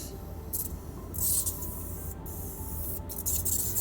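A hydrating face spray mist being sprayed: several short hissy bursts, close and fairly soft, heard alone with no talk.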